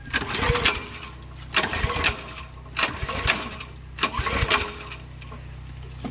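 A generator engine at an off-grid site is pull-started repeatedly: four rasping bursts of the recoil cord and sputtering engine, spaced about a second apart, each fading without catching, with a low steady hum underneath.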